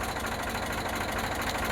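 An Eicher 368 tractor with a Ricardo air-cooled engine sitting at idle, a steady low rhythmic chugging throbbing evenly and close, with no speech.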